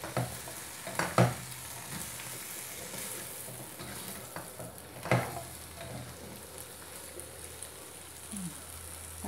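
Chicken with ginger and vegetables stir-fried in a pan, a steady close sizzle broken by a few scraping stirs and knocks of the utensil, with no voices.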